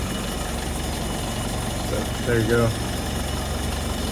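A 1995 Land Rover Defender 110 with a small four-cylinder engine idles steadily up close, a low continuous rumble with a brief voice speaking over it.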